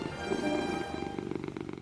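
A cat purrs close up in a continuous, rhythmic rumble that pulses steadily and fades slightly toward the end, with no voices.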